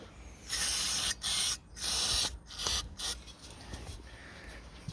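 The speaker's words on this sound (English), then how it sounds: "get the brake cleaner, and I'll give these wee brake pads a wee nice wee cleaning here" A can of brake cleaner sprays onto the brake pads of an Alko stabiliser caravan hitch: four strong, close hissing bursts with short gaps, then a weaker, sputtering spray as the can runs low.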